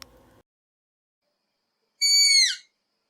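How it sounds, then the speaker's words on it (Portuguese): A single descending, whistled call of a striped owl (coruja orelhuda), clear and fairly loud, sounding alone after a brief low rustle and a long stretch of silence. "As corujas piam."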